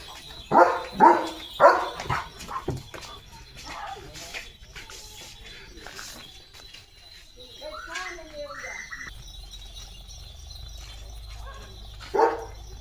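A German Shepherd barks several times in quick succession near the start, then quieter whines and movement follow, with one more bark at the end, close outdoors with people talking.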